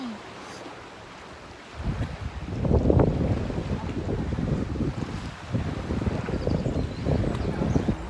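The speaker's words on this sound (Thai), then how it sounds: "นี่ลมมันแรง" Strong wind buffets the microphone beside choppy water while crabbing among wild greens, a steady gusty roar building after a quieter opening and holding loud to the end.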